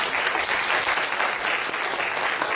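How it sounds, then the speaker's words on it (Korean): A church congregation applauds during a Sunday worship service, steady dense clapping filling the whole stretch at even loudness with no voices over it. "박수 한번 보겠어요?"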